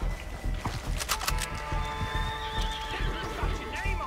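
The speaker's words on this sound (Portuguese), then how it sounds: "Opa, barulho de cavalo, hein?" A horse in a video game whinnies in a high, shaky, drawn-out neigh, with hoof clip-clops and sharp clatter beneath, and a voice speaking briefly underneath.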